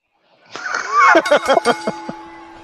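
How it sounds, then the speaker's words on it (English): A wrestling ring bell signals the start of a match, several bright metallic dings ringing close with lingering tones, a loud voice talking over the first strike. "the referee signals for the match to begin, and here we go to the very first bell"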